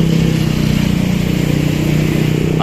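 Night road traffic in the Ayala Alabang business district of Muntinlupa City is heard close up as a steady, loud engine drone with a low tonal hum, like idling or slow-moving vehicles in congestion, with no voices.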